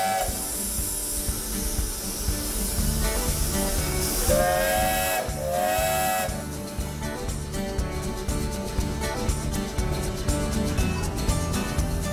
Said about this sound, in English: It's time to hop aboard the old log train